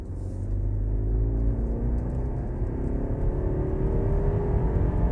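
A 2017 BMW G30 530i sedan with 250 brake horsepower accelerates hard, its engine a steady loud rumble and whir with rising pitch as it pulls, heard from inside the cabin with no talk.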